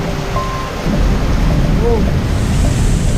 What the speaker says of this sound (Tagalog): Guys, ang lakas ng ulan.